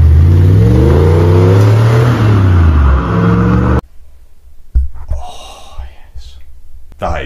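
An Audi 4.2 litre V8 fitted in a Polo with a Golf gearbox revs hard in several loud rising and falling bursts, then cuts off abruptly, leaving a few quieter breathy noises.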